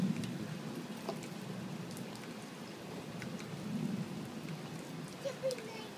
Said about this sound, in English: No, Chip, you wanna go play in the rain?